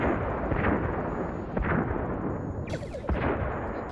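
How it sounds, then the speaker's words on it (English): Photon torpedoes fire at enemy warbirds in a starship battle, a loud, dense barrage of booming blasts over a continuous roar, with a sharp whooshing launch near the end. "Fire on all enemy ships. One photon each should do."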